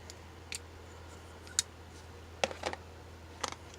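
A Ravencrest Simplex folding knife with its blade flicking open, heard as a few quiet, crisp metallic clicks and snaps scattered over several seconds against a faint background hum.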